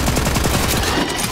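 Pistol in the video game Borderlands 3 firing rapidly, a dense continuous burst of loud, closely spaced shots with no pause for about a second and a half.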